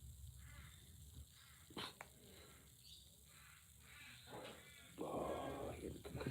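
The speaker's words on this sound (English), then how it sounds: "Oh, I get a kookaburra." A kookaburra calls somewhere outdoors, a distant raucous cackling that swells near the end over faint background noise.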